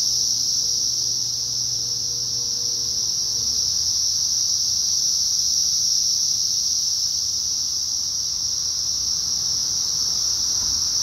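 Cicadas drone during a Cincinnati cicada invasion, a loud, steady, high-pitched buzzing chorus that fills the air continuously, with a faint low hum of distant traffic underneath.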